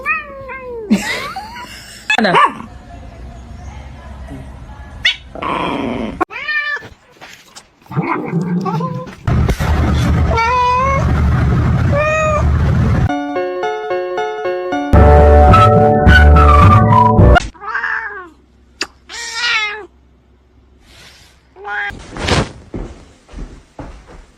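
A little kitten meows loudly and repeatedly up close, at times drawn out into wavering caterwauls, mixed with bumps and a sliding, door-like clatter in the middle. Brief quiet gaps fall between the cries.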